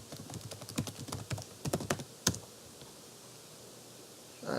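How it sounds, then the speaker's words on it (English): Keys clatter on a computer keyboard as a password is entered, in short uneven bursts of clicks over a few seconds, close and moderately loud, then quiet. "Also type in your password."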